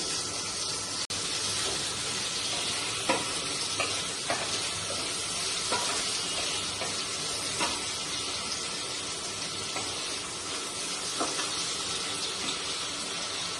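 Cut potatoes frying with whole spices like cloves in a pan, a continuous sizzle with scattered stirring clinks throughout.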